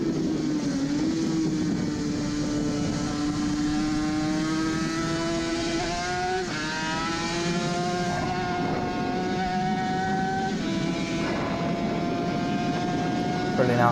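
Onboard a Suzuki RG500 racing motorcycle as its two-stroke engine pulls uphill on the Isle of Man road course, a loud continuous whine climbing slowly in pitch, briefly dipping at a gear change midway, with wind rush.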